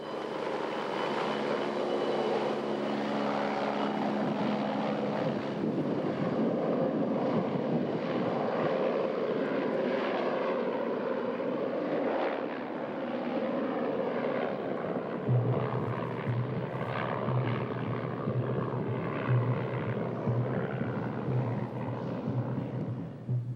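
An aircraft brings mail, food and supplies to Diomede village on Little Diomede island, Alaska, its engine a loud, sustained drone with a steady hum that shifts in pitch, continuous throughout and unbroken by voices.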